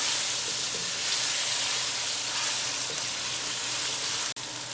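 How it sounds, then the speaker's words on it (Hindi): Chicken fries with coriander, cumin and other spices in a karahi, a loud, dense, continuous sizzle close by that ends with a brief clatter near the finish, with no talking. "दो से 3 मिनट के लिए अच्छे से मैंने सब मसालों को चिकन को अच्छे से मैंने भून लिया"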